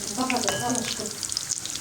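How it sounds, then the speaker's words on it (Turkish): Sucuk sausage sizzling and spitting in a frying pan, close and crackly with a few stirring clinks, some slices still partly frozen. "Şöyle sucuk kızartıyor arkadaşlar."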